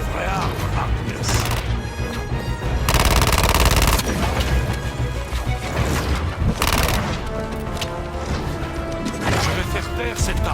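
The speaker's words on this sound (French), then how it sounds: "Voilà à quoi ressemble une vraie arme, Harkness." Dense, loud gunfire and crashing impacts from Suicide Squad: Kill the Justice League form a continuous barrage with bursts of rapid fire, mixed with voices.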